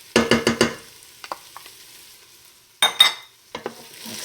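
Garlic and onions fry in a pan, a soft sizzle running under sharp scraping strokes from a utensil as the mixture is stirred in a few close bursts, with quiet gaps between them.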